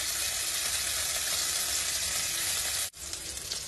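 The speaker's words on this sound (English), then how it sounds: "Now once the oil has heated, now you'll add garlic." Garlic slices sizzle and fry in hot oil in a pan, a steady close hiss that cuts out with a brief dip near the end and then resumes.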